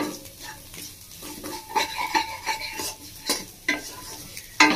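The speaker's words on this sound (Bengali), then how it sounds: "একটু গোলমরিচ দিয়ে নাড়াচাড়া করে নিয়েছি" Spatula stirring scrambled fried egg seasoned with black pepper in a pan, scraping and clinking in short uneven strokes over a soft, steady sizzle, close and moderately loud with no talking.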